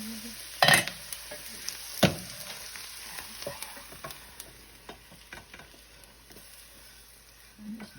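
Onions frying in a pan, browned at the edges, for a homestead chicken bog, a quiet sizzle broken by a few loud metallic clanks and scrapes of a utensil, then softer intermittent stirring.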